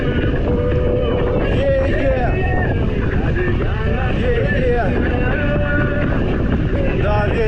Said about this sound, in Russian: Встречный ветер, блин. Фигачит. Встречный ветер.